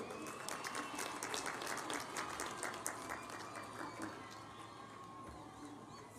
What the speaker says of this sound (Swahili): Tumkaribishe jameni na vigelegele.